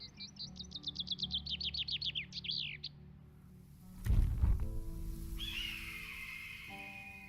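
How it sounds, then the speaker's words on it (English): A video game bird trills in quick repeated chirps for a few seconds, then a soft thud, and another bird call sounds later over a quiet ambient hum. "Those birds sound so good."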